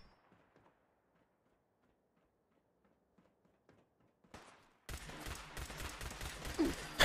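Gunfire in the post-apocalyptic shooter Fallout 4: after quiet clicks and faint footsteps, a loud, dense volley of rapid shots bursts in near the end and keeps going.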